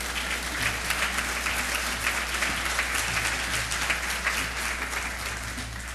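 Audience applause welcoming a speaker at a spiritist symposium, a steady, dense clapping that holds evenly throughout at close range with no voices over it.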